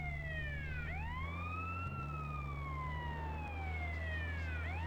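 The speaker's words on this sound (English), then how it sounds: "Clear a path, ambulance coming through" Ambulance siren in GTA San Andreas, wailing up and down steadily and loud, with the low rumble of the vehicle's engine beneath it and no talk.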